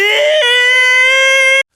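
An anime character gives one loud, sustained scream of resignation. The voice is strongly pitched, shifts tone partway through, and cuts off abruptly after about a second and a half.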